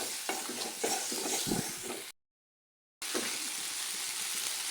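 Spices, cumin powder and salt frying with chili in a pan for a silver carp fish curry, a steady close sizzle with stirring scrapes, briefly cut to silence before the sizzling resumes.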